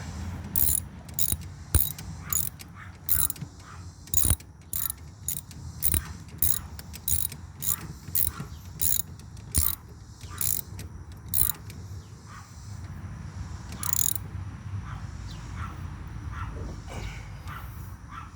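A ratchet tightens bolts on a Kubota mower during a belt change, with many short bursts of clicking at an irregular pace, close by and fairly loud, fading to quieter handling noise near the end.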